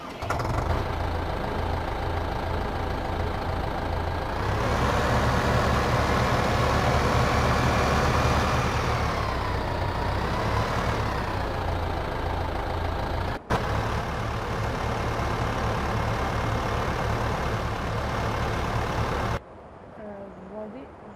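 Small tractor in the Farming Simulator 15 game, its engine running steadily with a continuous mid-pitched drone that rises in revs partway through, briefly cuts out, then stops near the end.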